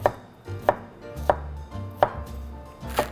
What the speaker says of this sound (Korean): 이것도 좀 이렇게 큼직하게 썰어 주셔요